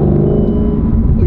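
A Ferrari engine rumbles with a loud, deep, steady low-pitched drone held close and continuous throughout, with no voices.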